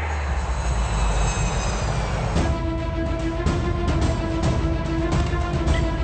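Fixed-wing aircraft engine drone in a film climax scene, a steady loud roar filling the whole clip, joined after a couple of seconds by tonal hum and sharp rhythmic accents like a dramatic score over the engine noise.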